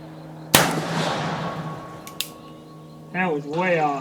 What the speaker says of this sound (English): I'm going to shoot a cylinder after I clean it just to see how accurate it is compared to these.